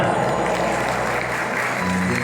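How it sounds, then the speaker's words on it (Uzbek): Wedding guests applaud the bride and groom in a loud, steady burst of clapping that fills the room close by, continuing without pause. "kelin va kuyovimizni munosib ravishda guldiroz va davomli qarsaklar sadosi bilan birgalikda tabriklaymiz"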